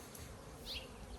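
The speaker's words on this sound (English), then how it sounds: "Whoa, this frame is full of bees." Honey bees swarming over a hive frame lifted out during an inspection give a dense, steady buzzing hum close by, with no talk over it.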